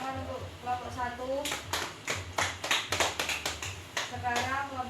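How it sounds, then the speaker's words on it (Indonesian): A classroom group gives a round of applause for group 1: a burst of many hands clapping for about two and a half seconds, with speech before and after. "tepuk tangan untuk kelompok 1"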